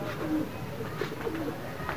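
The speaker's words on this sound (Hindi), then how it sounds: "ये सब के लग गए कबूतर देख सकते हैं, 14 के भी हमारे भी अरशद के भी देख सकते हैं" Soft pigeon coos repeat a few times at low pitch during a pigeon-flying contest, against a faint, steady background hum, fairly quiet and somewhat distant.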